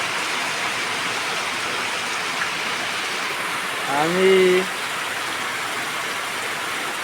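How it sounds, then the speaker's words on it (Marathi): Steady, heavy rain pours down with a constant hiss, and a person speaks a brief word partway through. "आपण बघू शकतात किती जोरात पाऊस या साईडला पडतोय."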